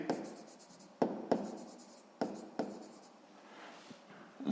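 Pen writing out a sixth-grade maths answer on paper, a steady close scratching broken by a few sharp taps and pauses between strokes, with no voices over it.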